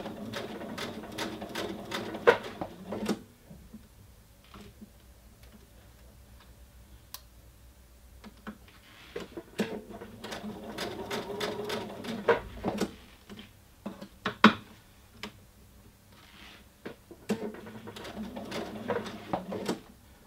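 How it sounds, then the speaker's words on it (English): A domestic sewing machine runs in several bursts while stitching a princess seam, its rapid needle ticking rising and stopping between pauses, with faint handling clicks of fabric and machine in the quieter gaps; no talking. "so we can just sew straight forward"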